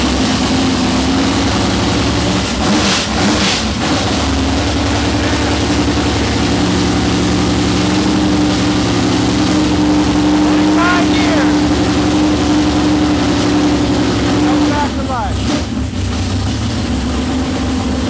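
A 1955 Chevy hot rod with a 454 big-block V8 that sat for 25 years runs loud and close, a steady heavy engine rumble with a few revs and surges throughout.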